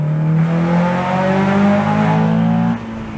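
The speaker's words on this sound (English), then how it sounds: "Driving the Honda Accord." A Honda Accord Type S with a CVT accelerates from inside the cabin, its steady engine drone rising evenly and loud for about three seconds, then easing off abruptly near the end.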